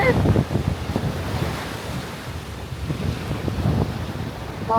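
Ocean waves breaking on a Pacific coast beach in Baja, a broad rolling surf roar with heavy wind buffeting the microphone, steady and close with no talk.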